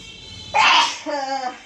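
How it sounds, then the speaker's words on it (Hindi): A woman sneezes from chili irritation, a single sharp, close burst followed by a brief voiced breath or murmur. "अब मम्मी की 5वीं छींक आने वाली होगी।"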